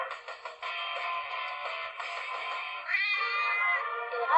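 A cat meows in a long, drawn-out cry that rises and shifts pitch partway through, close and fairly loud, with no talk over it.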